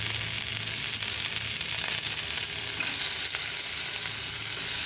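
Onion, garlic and green chili frying in a pan, giving a steady, even sizzle that holds throughout without any talk.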